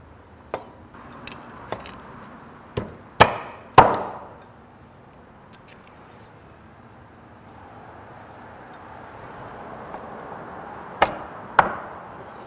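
A turkey backbone and neck are chopped into pieces on a board with a heavy knife. A cluster of sharp thwacks comes first, then a quiet pause, then two more chops near the end, all close and loud.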